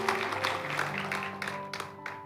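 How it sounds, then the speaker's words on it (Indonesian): A church congregation claps together during a GMS Church service, a thick wash of applause with sustained tones from instruments or voices running underneath, tapering slightly toward the end. "Berikan tepuk tangan bagi Tuhan Yesus Kristus"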